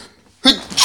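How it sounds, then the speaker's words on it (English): A single sharp human sneeze bursts out after a brief near-silent pause, loud and close, with a quick breathy intake followed by a forceful explosive release, heard during gameplay commentary for the mobile shooter game Unkilled. "Oh, that's a sneeze."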